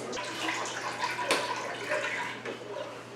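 Water spraying from a handheld sprayer held low in a kitchen, a steady broadband hiss with a brief louder burst midway, fairly close and alone.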